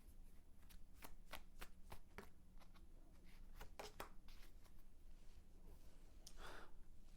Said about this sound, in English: Let's see if we can get two more cards on future energy.